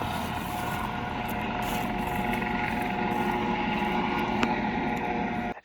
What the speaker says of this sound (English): It is actually a helicopter.